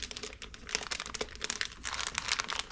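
Cellophane wrap on the packaging of genuine Mitutoyo digital calipers crinkles close up in a steady run of sharp, papery crackles and rustles, with no talking.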